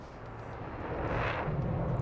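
Airplane engine in a flight video game, a steady broadband drone that swells a little louder partway through and holds, with no talk over it.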